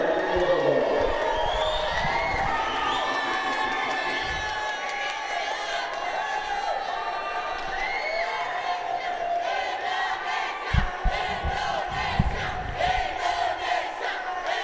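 A boxing arena crowd roars and cheers steadily through a men's 52kg flyweight quarterfinal bout between Philippines and Indonesia at the 2019 SEA Games, with a commentator talking over the noise.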